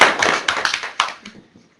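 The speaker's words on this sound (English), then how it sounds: "a round of applause for our Black Panther presenters" Brief round of audience applause for Black Panther presenters at a talk, a burst of clapping from a modest group that quickly thins to a few scattered claps and fades out.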